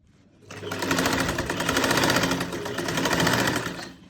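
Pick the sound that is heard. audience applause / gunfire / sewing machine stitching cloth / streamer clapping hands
sewing machine stitching cloth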